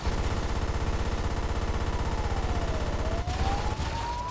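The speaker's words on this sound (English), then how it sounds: "Okay, that's machine guns." Rapid, steady machine gun fire from a superhero video game rattles continuously and loudly, with a siren-like tone sweeping down and back up through the burst and a brief dip near the end.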